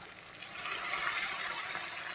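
Water is poured into a pan of tilapia fish curry as a short gushing pour that swells after a moment and holds steady.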